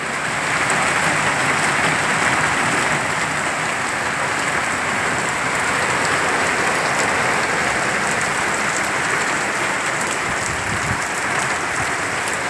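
Steady rain falling over a village near Dhari in Amreli during an unseasonal shower, a continuous dense hiss that holds evenly and fairly loud for the whole stretch, with no voices.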